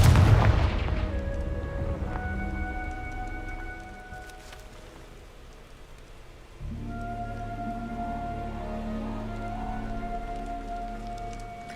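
Confringo blasting spells in Hogwarts Legacy go off as a heavy burst followed by crackling, rumbling debris. A second booming surge then settles into a sustained low roar, loud and close.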